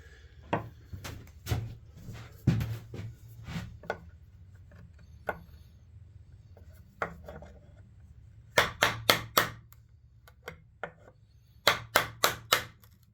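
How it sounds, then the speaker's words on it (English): A chisel trimming wood to fit a sliding dovetail for a dining table leaf, sharp close taps and chopping knocks in irregular bursts, some rapid clusters of strikes separated by quiet pauses. "let me show you what I'm doing with a chisel to get this sized just right"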